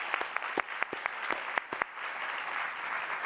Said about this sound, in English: can we please give another final round of applause for today's wonderful presenters?